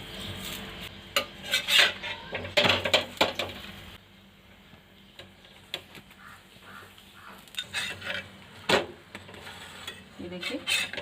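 Carrot-stuffed paratha cooking on a pan on both sides, with irregular scraping and clinking of a utensil against the pan and soft sizzling underneath, louder bursts of handling in the first few seconds, then quieter.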